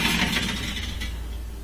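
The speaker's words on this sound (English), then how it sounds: "Okay, taking the racks out." Metal racks slide out of an LG range oven with a brief scraping, rattling clatter that fades, close and fairly loud.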